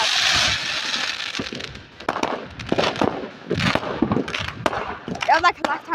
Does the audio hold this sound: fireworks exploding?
yes